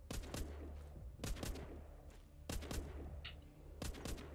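Gunfire at shooting practice in The Walking Zombie 2 video game: short, sharp bursts of shots about every second, close and punchy over a low steady hum.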